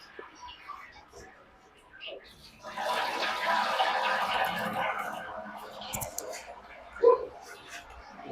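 Water drains from cooked biryani rice through a large mesh strainer into a pot below, a soft rushing pour lasting a few seconds amid quiet surroundings and faint voices.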